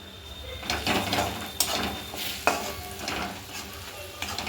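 Ground cumin and turmeric fry in oil in a pan while a spoon stirs them, giving a steady sizzle with a few sharp scrapes and clinks against the metal.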